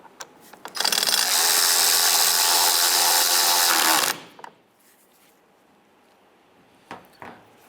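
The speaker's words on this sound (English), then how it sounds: "Now in the rear, we can put our T20 screw back in and tighten that one down." A power driver tightens a T20 screw on a roof rack cross rail of a 2007-2015 Mazda CX-9, a loud steady whir for about three seconds, ending abruptly, followed by light clicks and handling.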